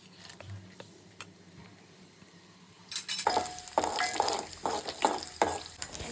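Spices for tempering hit hot oil, and after about three seconds of quiet clinking a sudden loud sizzle bursts up close and keeps crackling, with stirring through it.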